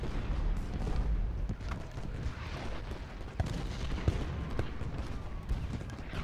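Dense, continuous battlefield gunfire from the Ultimate General: Gettysburg video game, with rifle volleys and booming artillery-like reports crackling steadily throughout, with sharper loud cracks standing out near the middle and end.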